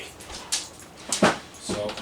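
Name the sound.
dog whimpering underneath, hoping for dropped food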